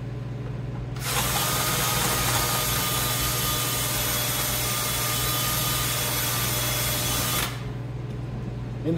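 A power drill bores through a vehicle fender for fender flare installation, whirring loud and steady for about six seconds before stopping, over a low background hum.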